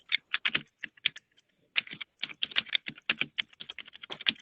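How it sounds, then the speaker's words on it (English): Someone types on a computer keyboard during an online meeting, with crisp clicking keystrokes in quick irregular bursts separated by short pauses, alone and fairly close. "It sounds like someone is typing,"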